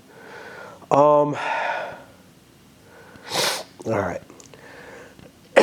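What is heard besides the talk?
sniffles and coughing from a cold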